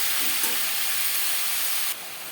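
Pumpkin pieces frying in a pan with black cumin tempering, giving a steady, close hiss and sizzle that cuts down partway through, with faint stirring and no voices.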